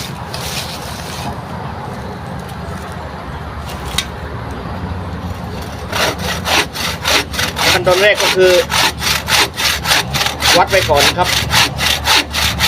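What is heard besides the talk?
hand saw cutting wood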